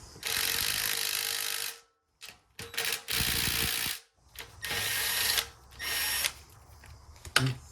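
A 14 mm socket on a ratchet loosening a bolt on a Toyota RAV4 during a cold-start rattle fix, heard as bursts of fast clicking and whirring that stop and start with short silent gaps between.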